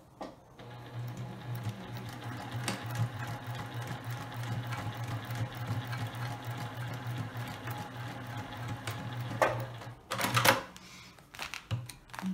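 A sewing machine runs steadily, stitching a straight line through clear vinyl for a drawstring bag, a continuous close hum with a brief louder clatter near the end, no talking.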